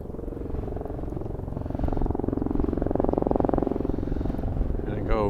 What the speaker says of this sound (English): the helicopter's coming back.